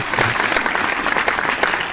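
An audience at a Hindi poetry recital applauding, steady dense clapping from a large crowd, loud and continuous throughout.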